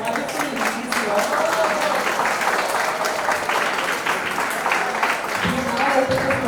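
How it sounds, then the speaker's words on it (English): An audience at a forum applauds the women on stage, steady continuous clapping from a crowd that fills the whole stretch at a fairly loud level, with a voice speaking briefly over it near the end. "please give a round of applause to these wonderful ladies here"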